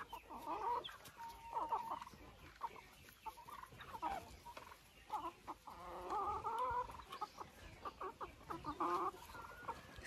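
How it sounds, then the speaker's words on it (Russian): Several silkie hens cluck and chatter continuously close by, with overlapping soft calls and occasional louder squawks. "Смелая эта курочка."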